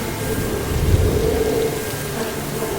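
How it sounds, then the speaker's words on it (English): Simulated rain falls on a LEGO set, a steady, dense hiss of water with a low rumble underneath, constant and fairly loud throughout, with no talking. "So we started off with a little bit of rain, which looked really cool but wasn't doing any damage."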